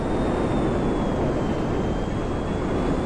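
Helicopter in Grand Theft Auto, a steady loud rotor and engine roar with windy rushing noise, constant throughout with no talking.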